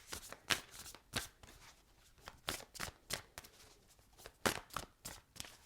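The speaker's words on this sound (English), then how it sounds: "Good shuffle for the cards." Tarot cards being shuffled by hand in a steady run of crisp riffling bursts, close and fairly quiet, with no talking.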